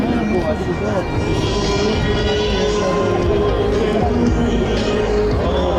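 Two Portuguese Navy Westland Lynx MK95 helicopters pass at the Oeiras air show, a loud, steady rotor and turbine roar with tonal whine holding throughout, with a commentator speaking over it.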